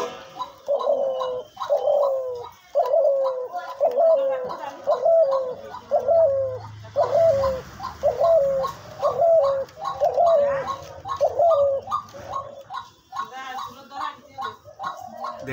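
A hunting decoy dove coos in a steady, evenly spaced series of repeated calls, loud and close, running on for about fifteen seconds with brief gaps.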